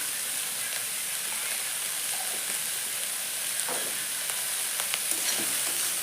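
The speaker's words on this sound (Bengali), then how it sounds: "হলুদ লবণ দিয়ে কিছুক্ষণ ভাজা ভাজা করে নেব" Okra frying with turmeric and salt makes a faint, even sizzle that runs throughout, with occasional light clicks of stirring.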